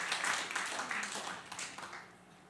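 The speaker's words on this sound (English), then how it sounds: "I'm gonna clap for myself on that one" One person claps briefly for themselves in a room during a talk on wrapping Go in Python, a short run of light claps that fades within about two seconds.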